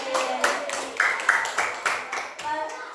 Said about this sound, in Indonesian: Beri tepuk tangan pada temannya.